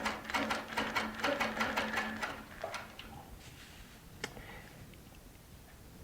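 A Baby Lock Regent quilting machine stitches along a quilt seam with a rapid run of evenly spaced mechanical clicks. The clicks stop after a couple of seconds and are followed by a few faint, scattered taps.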